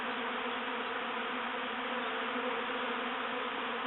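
A swarm of honeybees from a top bar hive gathers along the top of a gate outdoors, making a dense, steady, loud buzz that holds unbroken throughout.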